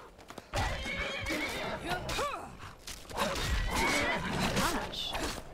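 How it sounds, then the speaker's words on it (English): A horse in the video game Skyrim whinnies loudly amid hoof clatter and combat thuds, with the neighs rising and falling over a busy, noisy scene. "Stop hurting my horse."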